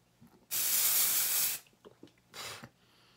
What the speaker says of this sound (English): In the light, let's spray it.